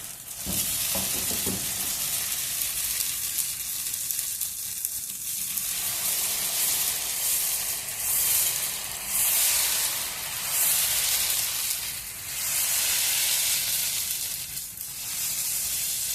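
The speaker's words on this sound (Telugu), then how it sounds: "ఆయిల్ వేసేసుకున్నాము. ప్లెయిన్ దోశ వేస్తున్నాను నేను" Plain oats dosa batter sizzles steadily in oil on a hot pan, a loud continuous frying hiss with a few brief scraping clinks near the start and gentle swells as it cooks.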